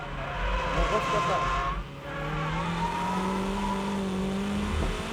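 A Toyota MR2 braking hard into a corner while drifting, engine note dropping and tires working through the turn, heard up close with a voice talking over it.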